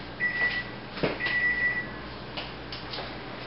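Kitchen timer in a home kitchen going off after five minutes: two short high electronic beep bursts, fairly faint over low room hum, with no talking.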